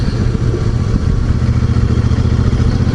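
A Royal Enfield Super Meteor 650 cruiser, Celestial Red edition with a 650 cc engine, runs steadily at close range, a low, even thrum with a faint mechanical clatter throughout.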